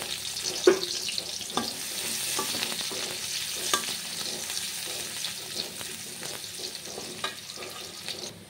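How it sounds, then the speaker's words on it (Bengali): Chopped onions frying in oil left from frying fish, a steady sizzle under irregular spatula scrapes and taps against the pan, moderately close with no talking. "আমি ওই তেলে পেঁয়াজ কুচি করে ছেড়ে দেবো।"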